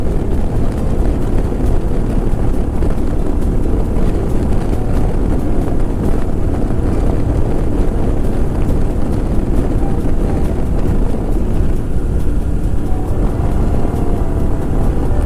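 A modified Royal Enfield Himalayan 411 motorcycle, fitted with Decata, DNA and FuelX parts, speeds up as the rider tucks in, its engine drone buried under constant loud wind buffeting for the whole stretch.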